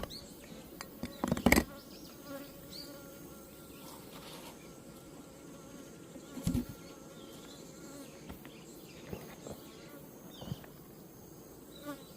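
Honeybees buzzing around a beehive outdoors, a steady low hum of many bees with occasional closer, louder passes and faint ambient noise.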